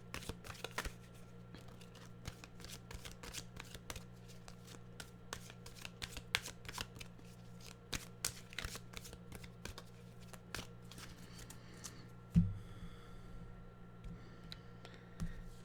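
Animal oracle cards being shuffled by hand, a run of quick, crisp riffling clicks close by, fading to a few sparse taps toward the end, with no voices.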